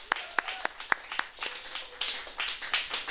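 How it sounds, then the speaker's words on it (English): An audience at a symphony concert marking the reopening of a refurbished pan theatre gives a quiet round of applause, with sharp separate claps early that thicken into a looser patter. "So let's give them a round of applause again."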